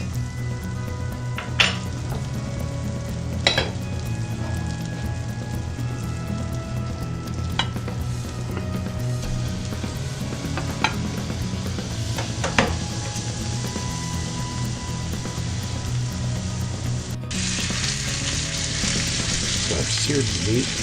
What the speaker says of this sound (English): So I've seared the meat on all sides